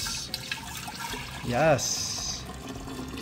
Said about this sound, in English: now I have to pour it into the jar, all of this